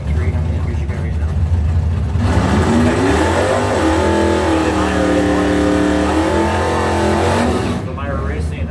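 A 1970 Camaro drag car runs at West Michigan Dragway with a loud, close engine roar whose pitch climbs through rising revs before falling away, and an announcer talking over it.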